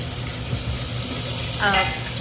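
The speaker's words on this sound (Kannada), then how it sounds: "ಅದನ್ನೊಂದು ಸ್ವಲ್ಪ ಎಣ್ಣೆಯಲ್ಲಿ ಫ್ರೈ ಮಾಡಿಕೊಂಡಾದ್ಮೇಲೆ" Chopped vegetables fry in a little oil inside a cooker, giving a steady soft sizzle with occasional stirring scrapes and a brief brighter clatter near the end.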